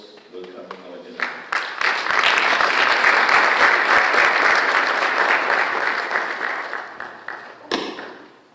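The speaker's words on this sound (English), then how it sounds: "Join me with the hands of applause, welcoming our General." Sustained applause from a conference audience welcoming the Chief of the South African Air Force, swelling quickly after a few scattered claps, holding steady and dense for several seconds, then tapering off with lingering claps.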